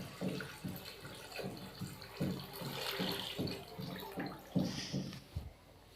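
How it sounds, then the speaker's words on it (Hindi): Water poured from a glass into a pot of fried potatoes for aloo pulao, arriving in a series of short splashing pours with brief gaps between them, fairly quiet and close. "अभी मैं इसके अंदर पानी शामिल करूँगा।"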